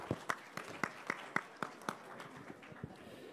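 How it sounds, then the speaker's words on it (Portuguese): Scattered audience clapping for a congresswoman at a Brazilian parliamentary front meeting on pension reform, about a dozen distinct, fairly sparse claps in an uneven rhythm, moderately close and light. "Salva de palmas para a deputada também"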